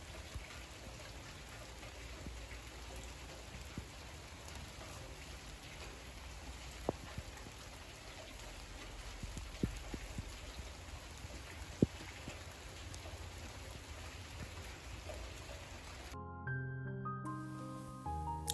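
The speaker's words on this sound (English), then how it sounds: "Get ready for the lovely sound of rain." Steady rain falls continuously with a soft hiss, scattered louder drops tapping nearby surfaces; no voices, ending abruptly.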